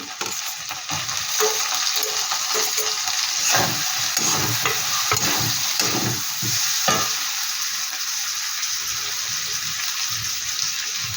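Chili powder and a tomato frying in a pan for an Amudi fish jhal curry, stirred with a steady loud sizzle and repeated scraping strokes of the spoon across the pan, close up with no talking.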